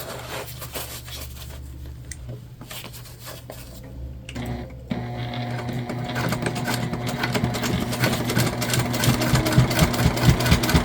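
Domestic sewing machine topstitching a fabric bucket bag's lining panel, a steady fast mechanical whirring chatter that pauses briefly, then resumes louder and continues close.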